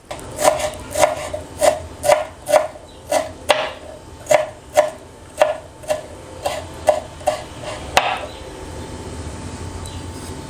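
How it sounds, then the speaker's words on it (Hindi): Knife chopping leftover vegetable stems finely on a board at home: steady, evenly spaced crisp knocks, about fifteen in a row, close and clear, with one final sharper chop and no talking. "I just chop these up"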